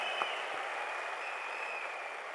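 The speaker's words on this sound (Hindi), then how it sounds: "जोरदार तालियों से आपका धन्यवाद करता हूं" An audience applauds in a faint, steady wash of clapping that carries on throughout, with no distinct voices over it.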